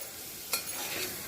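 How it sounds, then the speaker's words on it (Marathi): Soaked moth beans and peas sizzle and hiss in a cooker as they are sautéed over a low flame, with a quick scrape of stirring partway through; quiet and close, no talking. "आता गॅसची फ्लेम पूर्ण बारीक करायची आहे आणि हे छान परतून घ्यायचं आहे आपल्याला"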